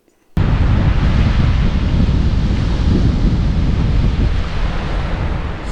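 Wind and ocean surf at the beach at Fort Clinch State Park: a sudden onset of loud, continuous roaring wash with heavy low rumble from wind buffeting the microphone, holding steady to the end.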